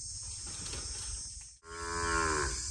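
A cow moos in a farming video game, two drawn-out lowing calls separated by a brief silent gap, the second louder and more tonal, with no talking.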